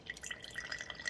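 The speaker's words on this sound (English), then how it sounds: "And then you pour the hot water over it." Hot water dripping through pour-over coffee grounds for iced coffee, a faint, steady patter of small drips and trickles with no talking.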